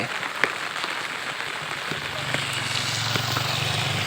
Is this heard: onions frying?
no